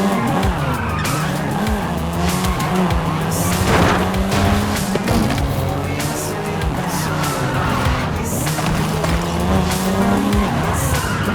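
A Volkswagen Golf R, seventh generation, races and slides in Forza Horizon 5 with a steady loud engine drone, tires squealing and skidding almost throughout, and occasional sharp bursts of noise.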